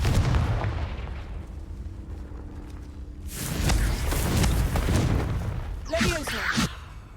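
Blasting-spell explosions from a wizard-themed video game, a sharp burst of noisy booms after a quieter stretch and another crackling blast near the end, heard alongside a voice shouting spell names.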